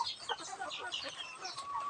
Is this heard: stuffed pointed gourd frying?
no